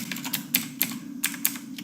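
Up and down arrow keys tapped on a computer keyboard, a string of crisp, close clicks at an uneven pace over a low steady hum, with no voices.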